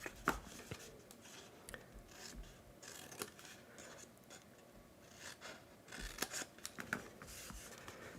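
Scissors snipping paper card tabs at an angle, with a series of crisp close cuts and the rustle and rub of paper handling, quiet and with no talk.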